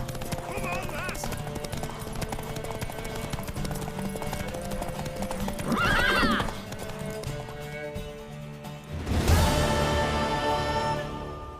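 Horse hooves clip-clopping in The Witcher 3, a steady galloping rhythm under music, with a whinny midway and a louder burst of movement near the end.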